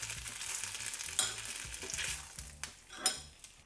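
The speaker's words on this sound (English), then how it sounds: "We'll cook these until they've got a nice bit of caramelization and color on every side." Kebabs frying in a hot pan, a steady close sizzle broken by a few sharp clatters and scrapes as they are moved around, with no talk.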